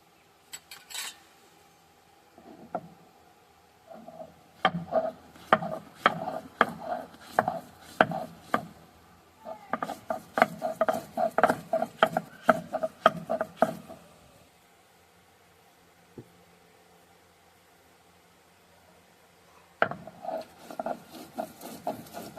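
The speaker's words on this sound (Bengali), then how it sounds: "প্রথমে আমি আদাটা বেটে নেব।" Fresh ginger crushed into paste on a traditional grinding stone, with irregular clusters of gritty taps and rubbing knocks, some loud and close, then a pause, then another run of strokes.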